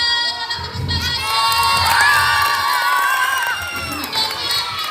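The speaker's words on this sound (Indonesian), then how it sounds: "Mana tepuk tangannya?" A school audience at a Ramadan speech contest cheers and claps loudly, with children's high shouts rising over a dense, sustained crowd roar for several seconds.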